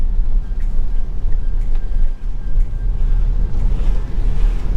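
Steady broadband road and rain wash inside a Tesla driving on FSD beta through rainy downtown Bellingham, Washington, with a constant low rumble and a faint tonal hum throughout, no talking.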